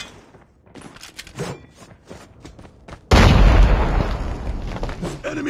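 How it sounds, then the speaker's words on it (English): A grenade goes off in the shooter game Call of Duty Mobile: a sudden loud blast with a lingering rumble follows a stretch of quieter scattered game sounds. "Grenade out."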